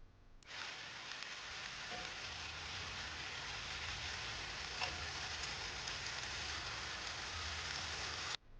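Vegetable pie filling seasoned with oregano and chili flakes sizzling in a pan, a steady, even hiss of frying that starts abruptly, holds at constant level throughout, and cuts off at the end.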